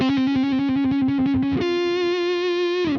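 Lead electric guitar with a wah pedal in a solo, opening with a rapid trill that settles into a long, sustained distorted note.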